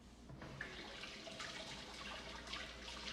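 Tap water running over a plantain being rinsed in a sink, a continuous splashing hiss with shifting spatter as the fruit moves under the stream, close and steady without talk.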